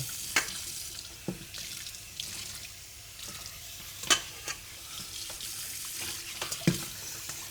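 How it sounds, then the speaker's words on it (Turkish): Baldo rice rinsed in a strainer under a running tap, a steady low wash of water broken by sharp clinks and splashes as the grains are stirred; no one speaks. "Şöyle süzgeç içine koyacağız. Ve iyice yıkayacağız."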